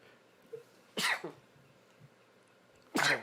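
Two sharp, explosive sneezes close by, a couple of seconds apart, with quiet in between.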